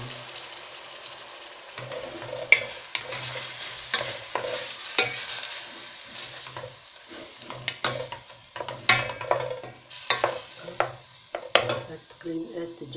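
Steady sizzling of food frying in a pan, with repeated scraping and clinking of a utensil stirring against the metal.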